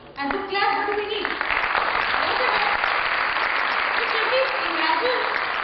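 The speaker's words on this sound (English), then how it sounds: "I was requesting you all to clap" An audience at a record-setting event bursts into loud clapping after a brief voice, many hands sustained and steady for several seconds.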